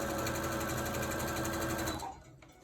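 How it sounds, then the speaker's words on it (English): A sewing machine stitching fabric for a wolf mask runs at a fast, even whirring pace for about two seconds, then stops, leaving faint room noise. "So you're going to take your sewing machine and your fabric."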